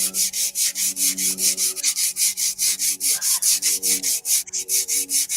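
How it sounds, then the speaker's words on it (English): Wood is sanded by hand in quick, even back-and-forth strokes, a loud rhythmic rasp repeating about four times a second, close up and with no talk over it. "Sanding."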